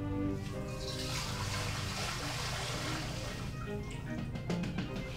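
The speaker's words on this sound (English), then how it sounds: "So we're going to add our water first." Water runs steadily into the bowl of a 40-quart Univex dough mixer, a soft continuous pouring hiss at low level, with faint background noise and no talking.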